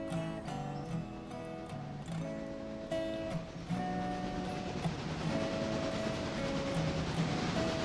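A freight train rolls along in the Railroader game, with steady rhythmic wheel clicks over a low, continuous rumble and a droning tone that stays close and fairly loud throughout.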